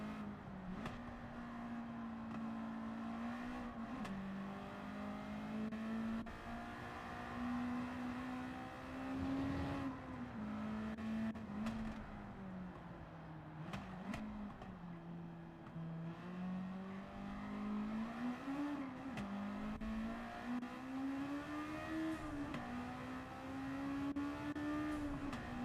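A Porsche race car engine in Gran Turismo 7 on PS4 drones steadily for the whole stretch, its pitch rising and dipping with throttle and gear changes, loud and close with no talk.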